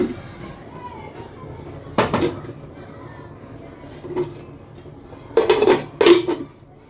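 A metal lid is set onto a cooking pot on the stove, giving a few clattering clanks around two, four, and five to six seconds over low kitchen background noise.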